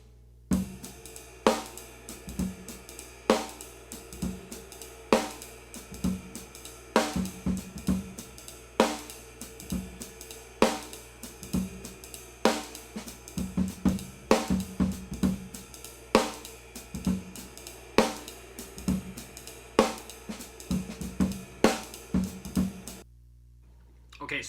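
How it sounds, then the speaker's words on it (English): Full drum kit captured through a single AKG 414 overhead microphone angled toward the ride, which rings out most prominently over steady kick and snare hits in a relaxed groove, with no voices. "you can hear ride cymbal is the highest thing in the mix of that single mic"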